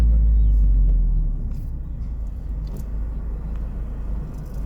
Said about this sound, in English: just casual suburban driving, just ordinary driving